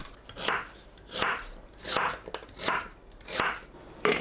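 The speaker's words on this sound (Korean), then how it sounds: "손질한 연근을 믹서에 갈기 좋은 크기로 썰어줍니다." Knife chopping trimmed lotus root into chunks on a cutting board, five or six steady crisp cuts roughly every three-quarters of a second, close and clear with no talk.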